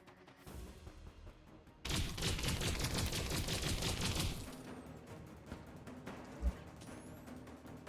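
Rapid rifle gunfire from the FootFall video game erupts in a dense, sustained burst for a few seconds, then drops to quieter scattered shots and a single sharp thud.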